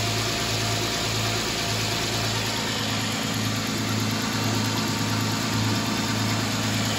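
Car engine running at steady idle while the cooling system is bled of air, a continuous low rumble with an even pulsing hum, close and alone without speech.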